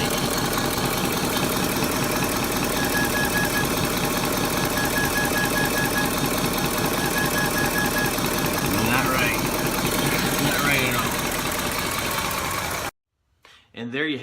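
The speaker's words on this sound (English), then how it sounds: "and get a hiss noise from the vacuum leak" An idling Ford F-150 5.4L 3V engine runs with a steady, loud hiss of a vacuum leak from an improperly installed injector, while someone talks over it; then it cuts off abruptly.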